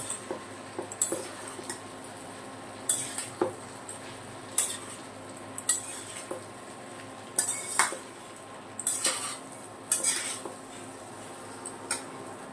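Boiled jackfruit being stirred into spices in a metal pot, a series of sharp clinks and scrapes from the spoon against the pot, irregularly spaced and close, over a quiet background hum.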